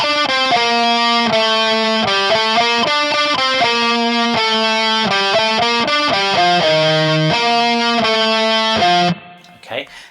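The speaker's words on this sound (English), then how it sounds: "Then the distorted guitars come in" A distorted electric guitar plays a heavy riff, loud, thick repeated picked notes and chords in a steady rhythm for about nine seconds before cutting off.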